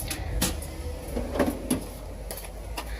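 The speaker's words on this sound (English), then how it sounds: "I want Ben to open up his toolbox and just show you how organized he keeps his tools." A tool drawer slides open in a neatly organized toolbox inside a work truck, giving a few soft metallic clunks and sliding rattles at close range over a steady background hum.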